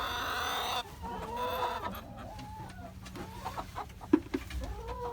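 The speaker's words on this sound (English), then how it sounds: "Looks like we got some chickens hanging out here." Several chickens cluck and murmur nearby in short, irregular bursts, with a brief louder squawk near the end, over a quiet outdoor background.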